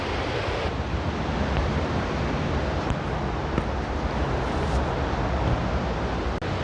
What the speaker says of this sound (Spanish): el ruido del agua. Yo imagino que la cascada está por ahí adelante. Se llaman Wapta Falls.